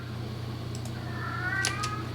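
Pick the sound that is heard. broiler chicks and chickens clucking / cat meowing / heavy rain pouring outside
cat meowing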